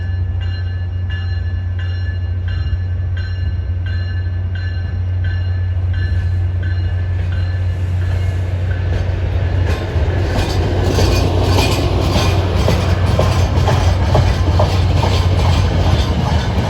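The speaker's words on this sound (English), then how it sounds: "Now that's a locomotive." A locomotive-hauled train passes during Boston area railfanning, a deep steady engine rumble joined by growing clickety-clack of wheels over rail joints as the cars roll by close and loud, without talk.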